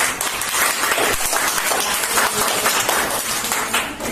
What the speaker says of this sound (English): Right. Clap your hand.